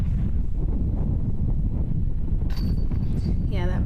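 Steady wind buffets the microphone on an outdoor disc golf course during a windy competitive round, a constant low rumble with a brief brighter whistle and faint tonal sounds near the end.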